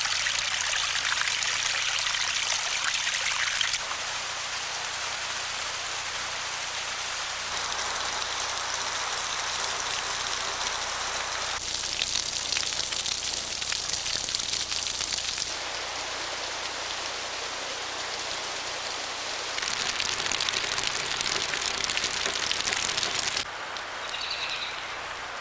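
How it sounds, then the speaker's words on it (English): Water dripping like light rain from an overhanging rock in Zion or Bryce National Park, a steady patter and trickle, alone with no voices. "On a hot day, the light rain falling from the rock is cool and refreshing."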